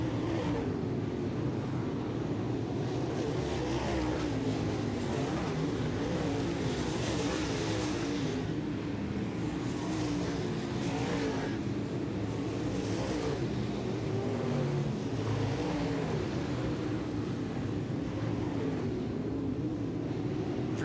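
Dirt track race cars roar around the oval at Southern Ontario Motor Speedway, a continuous loud engine drone with passing surges and swells over about twenty seconds, no voices.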